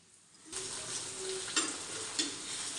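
Fish sizzles and spits in a hot frying pan, a steady close sizzle that starts suddenly and carries two sharper pops or clinks partway through, with no talking.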